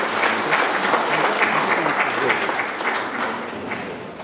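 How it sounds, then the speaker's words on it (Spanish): Crowd applause at an outdoor patron saint festival for San Martín de Tours in Pisacoma, a dense, steady clapping that fills the whole stretch and fades slightly toward the end. "Un fuerte voto de aplausos."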